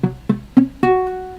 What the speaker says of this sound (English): When you first start your bar chords, they sound like this.